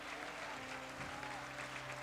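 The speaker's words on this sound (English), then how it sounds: "Give him the best clap offering." A church congregation claps together in steady, continuous applause, a dense even patter throughout with no voices standing out.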